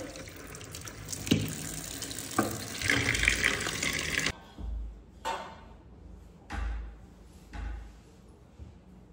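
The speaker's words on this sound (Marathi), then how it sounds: "आंबे अगोदर मी पाण्याने स्वच्छ धुवून घेते" Mangoes are washed under a running kitchen tap: a steady gush of water at first, then the flow cuts off and gives way to intermittent splashes and rinsing sounds close by.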